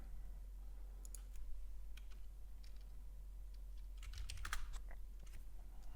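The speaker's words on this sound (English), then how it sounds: "You do hear typing. That's just me typing to the chat room that I offer." Soft, sparse keystrokes and clicks on a computer keyboard while someone types into a chat, with a quicker flurry near the end over a constant low hum.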